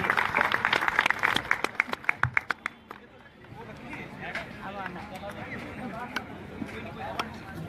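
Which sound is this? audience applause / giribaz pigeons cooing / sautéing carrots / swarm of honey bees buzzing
audience applause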